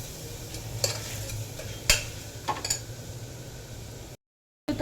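Tomatoes with rock salt stirred in a pan for chalna: a spoon scrapes and clinks against the metal in several distinct strokes over a low, steady stove hum, with faint sizzling, followed by a short silence.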